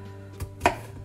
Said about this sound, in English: I'm going to cut little slices, and then I will cut them in half